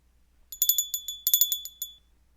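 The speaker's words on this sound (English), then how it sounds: "The bell invites me." A bell rings out in a Shakespeare monologue reading, with bright metallic strokes in two quick clusters of several chimes each, fairly close and clear. No voices are heard under it.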